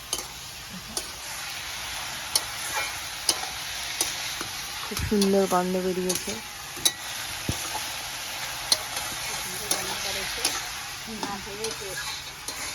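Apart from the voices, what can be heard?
frying ash gourd in a pan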